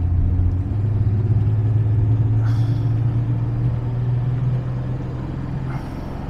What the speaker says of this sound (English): It's like backfiring and firing at the same time. So it's like backfiring out of the front carb, it seems.